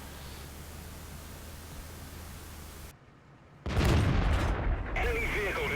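A tank blows up in World of Tanks, a sudden loud burst that comes after a brief hush and fades into a sustained rumble and crackle over steady engine drone.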